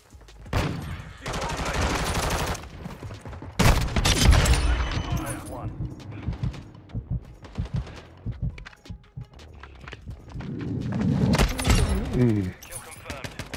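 Close-range shotgun blasts in Modern Warfare 2 multiplayer: several sharp, loud bursts with rapid gunfire clusters between quieter stretches, mixed with footsteps and game clatter, while a voice talks intermittently.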